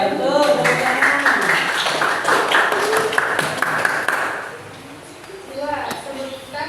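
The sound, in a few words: classroom applause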